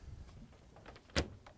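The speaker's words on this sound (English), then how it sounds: "Let's close the doors." Doors on a Whirlpool, KitchenAid or Maytag refrigerator swing shut, ending in one sharp close thud after faint shuffling, nearby and quiet overall.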